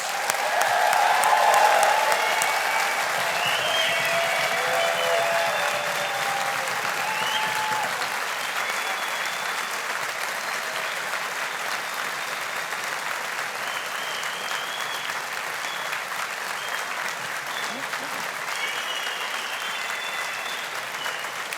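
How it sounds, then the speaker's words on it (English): Sustained, even applause from a large audience at a university engineering graduation ceremony, a steady wash of clapping that is loudest at the start and then holds steady for about twenty seconds. "let's give the class of 2023 a big rousing round of applause"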